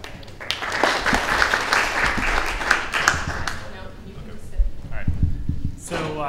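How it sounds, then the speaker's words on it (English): An audience applauds panelists at an industry event, a burst of clapping for about four seconds that fades out, after which a voice begins speaking. "if you guys can give an applause to our panelists"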